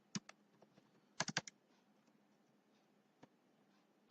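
Quiet, scattered keystrokes on a computer keyboard while typing in MS Word: a few single taps, a quick cluster of several clicks, then sparse taps with long gaps in a still room.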